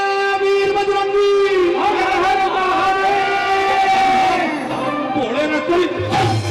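Crowd at a Bhagwati jagran devotional night in Delhi shouting a jaikara chant to Bhole Baba, many voices loud and sustained in unison, swelling and then breaking into scattered shouts near the end.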